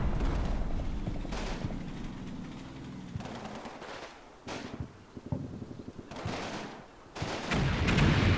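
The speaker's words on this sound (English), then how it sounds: "I hear the mortars firing" Gunfire and heavy weapon blasts in a military video game training campaign: loud, repeated bursts of firing and booming impacts in uneven clusters, with mortars firing among them, and no voices.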